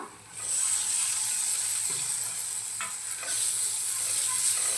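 Fresh cashew nuts sautéing in spiced oil, heard as a bright, continuous sizzle with a few stirring scrapes and clinks, close up and without speech.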